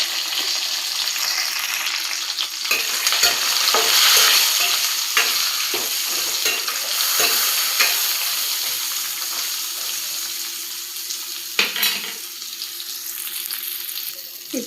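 Cumin seeds, garlic cloves and soaked tamarind sizzle in hot oil in a pan, a loud continuous crackle broken by clicks and scrapes of stirring, with a brief metallic knock near the end.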